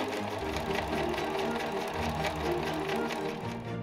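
Sewing machine running steadily while French seaming the side seams of a 1901-style silk shirtwaist, a close, even whirring hum with a rapid stitching rhythm and no talk.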